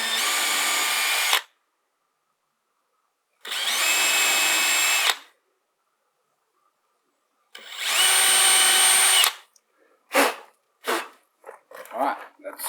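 A power drill bores pilot holes for hinge screws during a Ram Promaster 118 WB camper build, with three separate loud close whirring bursts split by silence, followed by short knocks and clatter.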